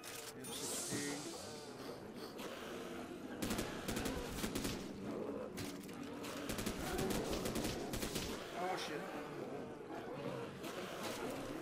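M16 rifle fire in the zombie shooter game 420 Zombies, rapid bursts of automatic gunfire crackling repeatedly over game sounds and background noise, moderately loud throughout, with a voice speaking at times.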